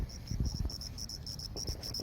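A cricket chirps outdoors on a campus, its steady, evenly spaced high trills repeating throughout against quiet low background rumble.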